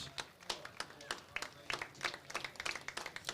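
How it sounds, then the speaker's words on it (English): Crowd at a high school football game, Belle Plaine at Clarksville, applauding an injured player as he is helped off the field; scattered, uneven clapping from a fairly distant crowd, steady for a few seconds. "the crowd here gives him a round of applause"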